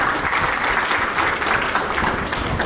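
Loud, sustained applause from a seminar audience welcoming guests at a community gathering, a dense, steady wash of clapping that fills the whole stretch without pause.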